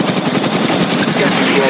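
Rapid automatic gunfire from the Apex Legends battle royale game, dense sustained bursts filling the whole moment, loud and close, with game voice lines layered in.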